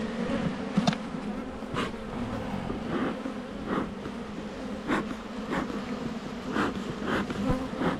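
Honeybees swarm around an open, aggressive hive during an inspection, a dense steady buzzing with individual bees zipping past the microphone now and then.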